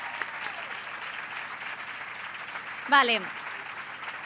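A TV show studio audience claps in a steady, moderately distant wash throughout, with a short spoken word cutting in near the end.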